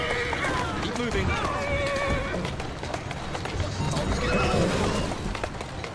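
A horse in Assassin's Creed Syndicate whinnies several times over steady clip-clopping hooves, with a busy background and someone speaking throughout.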